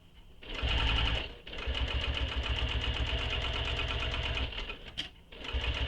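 A sewing machine stitches along a vinyl bag, a rapid steady mechanical chatter that runs continuously apart from two brief pauses, close and fairly quiet with no talking.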